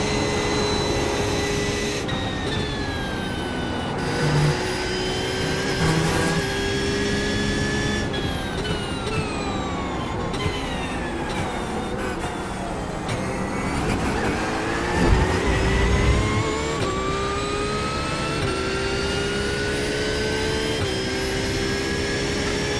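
A Lamborghini GT3 race car in iRacing at VIR screams along at full throttle, its loud engine note rising and shifting steadily through gears with rumbling tyre and road noise underneath, continuous and close.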